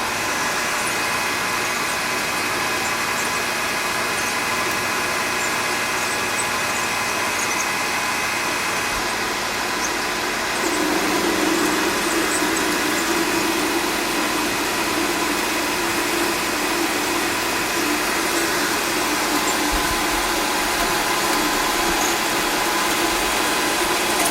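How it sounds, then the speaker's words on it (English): An old 12x7 bandsaw cuts metal stock with a steady, loud mechanical hum and whine. The tone shifts and thickens partway through as the blade takes the load, and no one speaks. "This is an old 12x7 bandsaw I picked up used."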